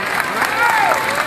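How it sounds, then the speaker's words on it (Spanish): Outdoor rally crowd applauding at a political gathering in Barrancas, La Guajira, steady dense clapping throughout with voices and a tonal sweep mixed in. "Un aplauso para Jesús fuerte"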